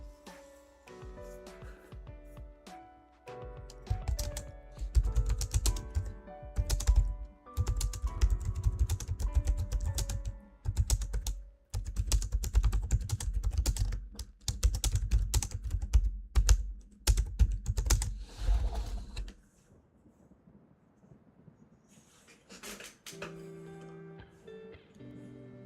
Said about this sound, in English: it's me typing away to you right here